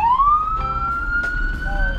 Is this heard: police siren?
yes